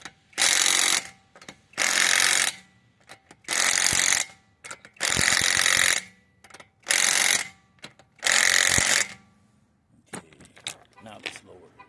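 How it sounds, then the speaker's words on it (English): Impact wrench tightening lug nuts on a 2010 Toyota Venza wheel hub fires in six loud, buzzing bursts, each about a second long, separated by short pauses with small clanks and handling noises. "hand screw them on first before you hit it with the impact."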